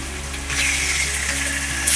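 Chicken pieces frying with onion in a pan for a Bengali chicken kosha, giving a steady bright sizzle that holds close and continuous with no talk over it.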